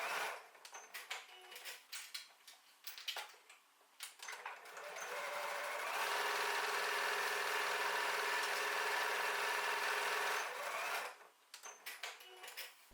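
A domestic sewing machine stitches across the top edge of two fabric Christmas stocking panels with a quarter-inch seam: short stop-start bursts, then one steady, close run of about five seconds before halting.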